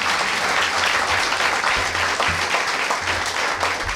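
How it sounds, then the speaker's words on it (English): Audience at a community violence intervention press conference applauding donors, with dense, even clapping filling the room without a break and low thumps underneath. "I would ask that you give them a round of applause because they have come through."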